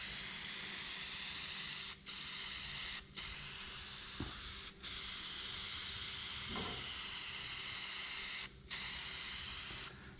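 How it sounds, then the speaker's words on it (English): Cheap green rattle-can spray paint going onto tin for a 1950 Oliver tractor: long, steady close hisses of the aerosol broken by four short pauses, with a faint click near the middle. "I'm just going to throw a quick coat of rattle can cheap rattle can green on"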